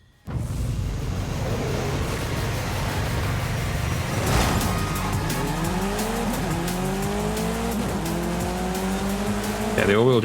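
An all-wheel-drive car in Forza Horizon 5 launches hard off the line, engine roaring and climbing through rising gear sweeps with tire squeal, loud and continuous after a brief quiet start.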